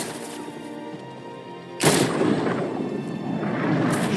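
An army opens fire in the video game Final Fantasy VII Rebirth: after a quiet lead-in, a loud burst of gunfire erupts and continues as a dense, sustained volley with no talking.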